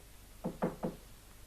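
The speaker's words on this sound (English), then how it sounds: "Knock at the door, Mr. Lex." Three quick, firm knocks on a door sound close by in a quiet room, evenly spaced and followed by silence.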